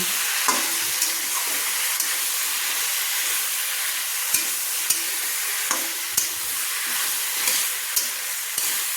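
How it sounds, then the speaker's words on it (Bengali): Mixed vegetables sautéing with spice paste and turmeric in a pan give a constant loud hiss of frying, punctuated by sharp clicks of a spoon against the pan as the mixture is stirred, with no talking. "ভালো করে আমি মশলার সঙ্গে সবজিগুলোকে কষিয়ে নিচ্ছি"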